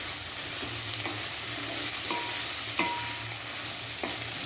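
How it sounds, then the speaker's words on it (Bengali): A spatula stirs drumstick leaves with spices in a wok, giving a steady soft sizzle broken by several scraping strokes and light metallic taps against the pan, close and with no one speaking. "এবার খুন্তির সাহায্যে নাড়াচাড়া করে মশলার সাথে সজনে পাতাগুলোকে"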